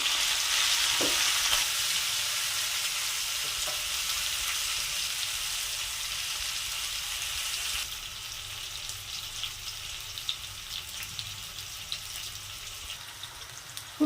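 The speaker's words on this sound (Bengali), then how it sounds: "এবার ফুলকপিগুলো ভেজে নেব আমি" Cauliflower florets fry in hot oil with a steady, bright sizzle that eases slightly partway through, heard close with a few light stirring clicks and no talk.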